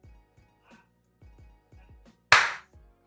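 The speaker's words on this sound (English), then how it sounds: "You're the one that clapped." A single sharp hand clap rings out loud and close in a quiet kitchen, standing out sharply against faint soft taps and knocks around it.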